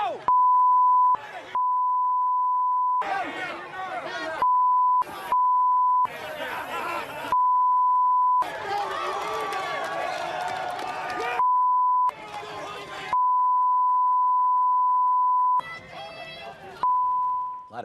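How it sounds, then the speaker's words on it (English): A steady electronic beep tone sounds repeatedly in the gaps between loud bursts of crowd shouting and chatter, continuing throughout. "A lot of beeping."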